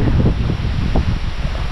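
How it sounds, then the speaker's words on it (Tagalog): Strong wind buffets the microphone in a constant low roar with rough gusty fluctuations, no voices. "Sumikat na ang araw pero malakas pa rin ang hangin"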